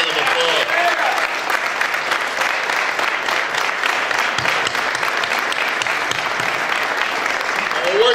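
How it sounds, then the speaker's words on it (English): An audience gives a round of applause at a civic event in Paterson, a loud continuous wash of close clapping that holds steady throughout, with a voice briefly heard at the start. "Let's give them a great round of applause."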